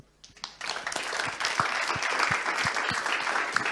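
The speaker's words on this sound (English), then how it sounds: "Let's give him one round of applause." A seated audience at an urban talk breaks into applause for a speaker, starting from near silence and quickly building into steady, fairly close clapping that holds to the end.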